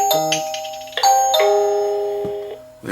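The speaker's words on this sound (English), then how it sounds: "when someone rings the doorbell here, you'll hear it not only ring here" The chime of a Meco Eleverde J5 smart video doorbell plays a clear, close melodic sequence of ringing tones, each note sustaining and decaying, with a fresh chime starting at the very end.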